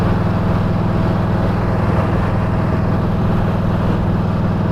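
A loud, steady engine drone with a deep throbbing rumble runs unbroken throughout, close to the microphone, from a Yamaha V-Star 1300 Tourer motorcycle fitted with a Cobra 4-inch slip-on exhaust.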